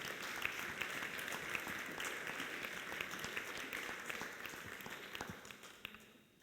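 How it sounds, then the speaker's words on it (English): An audience at a CYBATHLON brain-computer interface competition in Graz, Austria, claps loudly in a sustained burst of applause that slowly fades toward the end. "Please, another huge round of applause for Wilfried Panattier"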